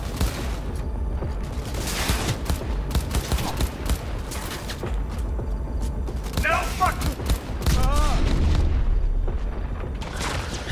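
Gunfire in the video game Cyberpunk 2077, with dense bursts of shots and booms running almost continuously. There are brief tonal effects in the middle and a louder stretch near the end.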